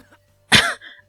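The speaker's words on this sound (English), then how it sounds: "His body shook with each cough" A man coughs hard once in a short, harsh, close burst that trails into a rasping breath, set against a quiet low hum.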